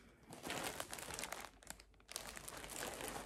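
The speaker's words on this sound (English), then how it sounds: "I am mainly unwrapping because I have actually 2 bags here" Skeins of Papatya Batik yarn are unwrapped from a plastic bag, giving close, quiet, continuous crinkling and rustling of plastic.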